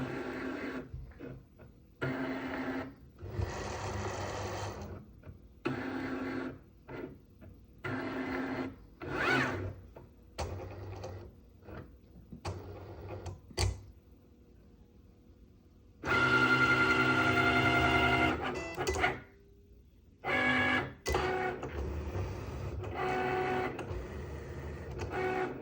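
Cricut cutting machine reading registration lines and cutting product labels, giving a whirring, rasping carriage motion in short bursts and longer runs with pauses between, moderately loud and close, with no talk.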